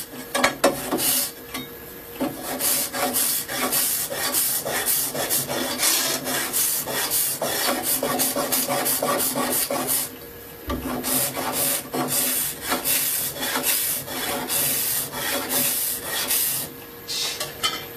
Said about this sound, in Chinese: 这个把它刮了